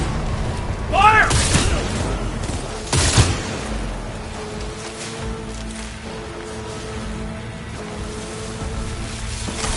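Gunfire in Cyberpunk 2077: a loud burst of shots and a sharp crack early on, then fading into a quieter mechanical, humming background with muffled voices.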